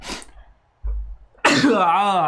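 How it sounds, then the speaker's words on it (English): A single sharp sneeze bursts out, preceded by a quick intake of breath and followed immediately by a person talking. "Sneeze coming up."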